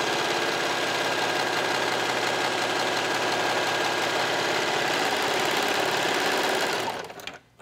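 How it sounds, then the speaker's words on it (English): A serger overlocks the side seam of a draped tank top, its rapid mechanical whirr running steady and loud for about seven seconds before cutting off abruptly. "And again, serge the other side."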